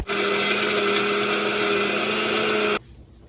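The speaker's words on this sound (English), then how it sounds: "I'm gonna try to put this in a blender" A blender roars at high speed crushing cupcake frosting ingredients in a steady, loud whir for a few seconds, then cuts off abruptly into near silence.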